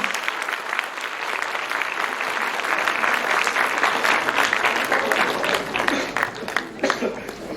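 Audience applauding at the close of the DENTCON 2023 dental conference scientific sessions, a dense, sustained wash of many hands clapping in a hall for several seconds, staying steady and full before thinning slightly near the end.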